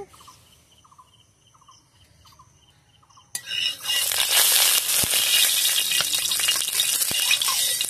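Oil heating in a kadai before potatoes and pumpkin peels are fried; a quiet start with faint clinks, then a loud, steady sizzle takes over and continues to the end.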